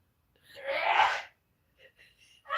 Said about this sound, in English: My mom sneezed.